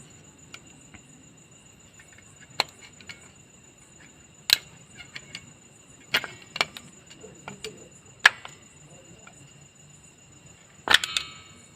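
A screwdriver prying the speedometer pinion gear out of a Hero Splendor BS6 motorcycle, heard as a few sharp, isolated metallic clicks and snaps spaced seconds apart over a quiet background with a faint steady high-pitched tone.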